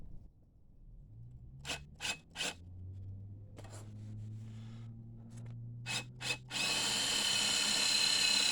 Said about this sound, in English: I'm going to use a step drill and just start drilling them out.